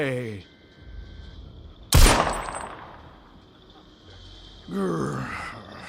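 A single loud, sharp gunshot in a cutscene of the video game Jagged Alliance: Rage, cracking out between stretches of voiced dialogue, with a low ringing ambience lingering afterward.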